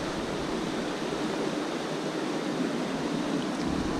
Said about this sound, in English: this river is just full of white water